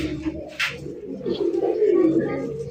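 A male pigeon of a fancy breed coos in a low, rolling call close by, a short burst near the start followed by a longer sustained coo.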